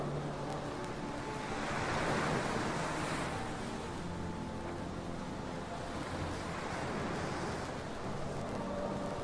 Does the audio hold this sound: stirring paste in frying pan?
no